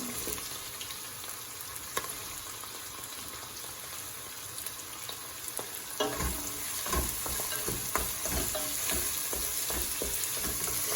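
Onions and spring onions frying in a pan for Kerala-style chilli chicken, a steady bright sizzle with occasional scraping stirs and clinks that grow busier partway through.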